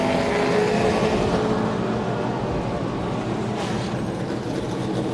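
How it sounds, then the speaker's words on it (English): A NASCAR race car rolls into the garage at the start of the 2016 season, its engine a loud, steady rumble that fills the clip without a break. "Kyle Busch rolling on in."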